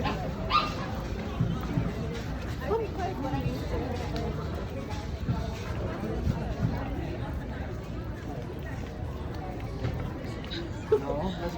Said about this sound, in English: Oh, so many doggies.